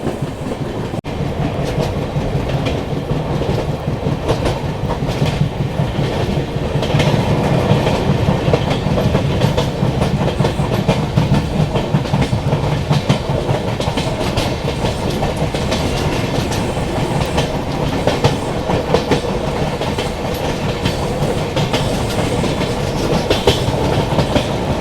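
The Agartala Tejas Rajdhani Express rolls along the rails with a loud, continuous rumble and rhythmic clickety-clack of wheels, heard from inside a coach.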